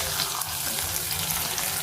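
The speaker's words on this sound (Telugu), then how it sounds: "ఇప్పుడైతే మనం గ్యాస్ ఆఫ్ చేసుకొని పోపు వేసేసుకుందాం" Dried chilies and curry leaves sizzle in hot oil as a tempering for cabbage dal, a close, continuous crackling fizz that stays even throughout.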